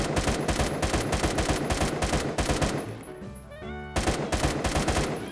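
Sustained rapid automatic gunfire from Roblox Phantom Forces blasts loudly and continuously, briefly dropping out for a short musical or interface tone pattern before the rapid firing resumes.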